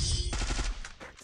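Gunfire in the video game Counter-Strike, a rapid burst of automatic shots with brief pauses, loud and close, ending in a short sharp sound.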